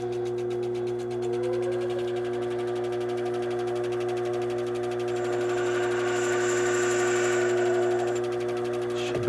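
A drill bit cuts a 45-degree chamfer into a hole in a Judge Dredd Lawgiver prop. A steady motor whine with strong harmonics carries throughout, pitch rising slightly early on, with a brighter, high-pitched cutting squeal through the middle.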